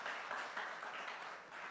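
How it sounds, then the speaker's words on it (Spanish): Church congregation applauding during a Spanish-language sermon, a dense, steady wash of many hands clapping at moderate volume throughout, with no distinct individual claps standing out. "Dale fuerte ese aplauso al Señor."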